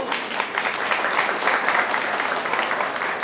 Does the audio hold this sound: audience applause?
yes